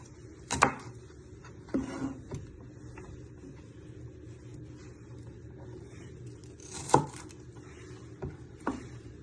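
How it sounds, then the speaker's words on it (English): Onions are chopped with a knife on a board, giving a few sharp isolated knocks spread out over several seconds, close but fairly quiet with a low background hum. "Just give them one final chop because you don't want them to be too big."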